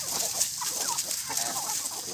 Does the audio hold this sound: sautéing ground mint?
no